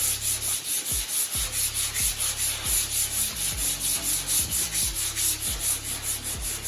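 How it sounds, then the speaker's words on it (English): Hand block sanding on the body panel of a 1972 Dodge Demon, a close, steady swishing rub in rhythmic back-and-forth strokes over a constant background hum. "I can block this very easily without prying and creating a hot spot right there."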